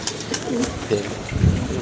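Pigeons feeding on scattered grain give soft, low cooing in short repeated bursts, fairly close, with faint background chatter.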